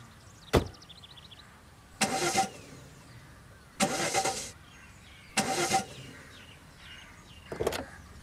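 A car engine cranks but fails to start, with four separate starter bursts, each about half a second long, separated by pauses and heard close up with no speech.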